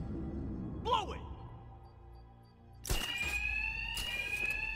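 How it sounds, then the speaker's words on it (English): Fire alarm ringing in Batman Arkham Knight, a sustained electronic tone entering loudly around the third second, preceded by a brief whooshing effect over a low game background. "Two-Face's thugs won't hear me over the alarm."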